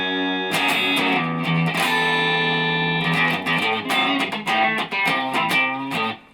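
Distorted electric guitar plays a driving pre-chorus riff from a song, sustained chords followed by choppy, rhythmic palm-muted hits, loud and up close.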